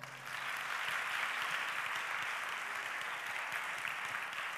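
A church congregation applauding for Jesus, steady broad clapping from many hands filling the room and holding at an even level throughout.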